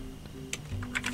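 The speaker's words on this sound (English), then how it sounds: "we're gonna type in Star Wars" Quick light keystrokes on a computer keyboard, a handful of close, crisp clicks in a brief burst over a faint steady hum.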